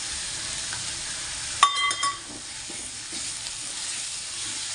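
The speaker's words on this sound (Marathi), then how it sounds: "तर इथे आपलं मसाले हे फ्राय झालेले आहे" Potato masala with spices frying in a pan gives a steady close sizzle and hiss, broken by a few clinks and stirring scrapes of a utensil.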